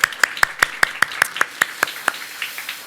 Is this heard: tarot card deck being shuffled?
no